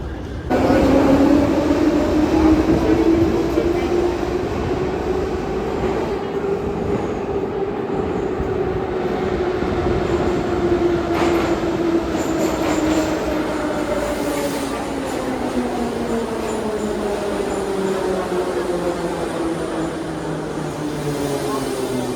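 A metro train pulls into a station in Georgia, its motor whine sliding in pitch over a steady rumble of wheels, loud and close throughout and ending as it slows.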